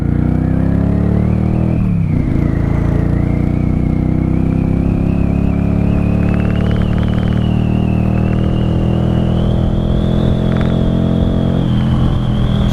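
A 1995 Honda Shadow VLX 600 (VT600CD) motorcycle engine rumbles steadily and loudly while riding in first gear, its low throbbing tone rising and easing with throttle changes throughout, with no talking.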